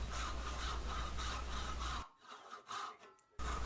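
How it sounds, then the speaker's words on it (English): A hand saw cuts dovetail pins in a wooden board in quick, rhythmic back-and-forth strokes, pausing briefly before resuming. "begin sawing my pins"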